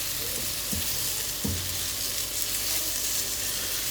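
Beef browns in a little oil for stew, giving a steady, close hiss of sizzling fat broken by a couple of soft clicks from a utensil.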